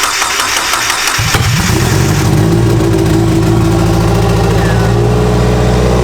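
Turbocharged Mazda Miata engine cranks briefly, then catches and settles into a loud, steady, slightly rough idle close by, with no one talking over it.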